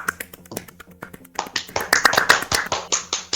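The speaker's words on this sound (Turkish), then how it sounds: "Alkış" Sharp claps ring out in a quick rhythmic run, sparse and light at first, then growing louder and denser before easing slightly.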